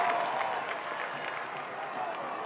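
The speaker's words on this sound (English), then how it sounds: "That'll lead to a nice applause from the home crowd." Home crowd applauding at a professional soccer match in Phoenix, a steady wash of clapping and crowd noise that holds for a couple of seconds at moderate distance.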